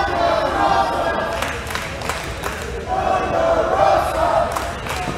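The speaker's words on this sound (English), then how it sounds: "Crowd getting behind Thunder Rosa" A wrestling crowd at a Freelance event chants and cheers for Thunder Rosa, a loud, sustained roar of many voices rising in rhythmic waves, with a commentator's voice mixed in.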